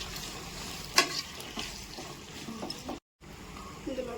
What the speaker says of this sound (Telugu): ఇప్పుడు దీన్ని ఫ్రై చేసుకుందాము.